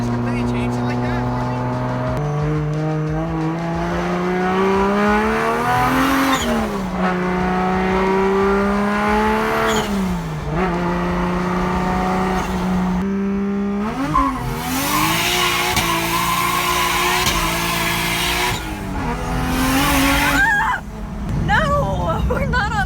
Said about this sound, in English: I told you could do rolling burnouts